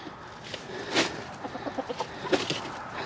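Backyard chickens cluck in a rapid series of short, moderately close calls, with a louder squawk near the start and another toward the end over faint outdoor ambience.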